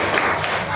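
A class of schoolchildren does a rhythmic clapping salute for a group, a dense burst of clapping and chanting voices filling a classroom.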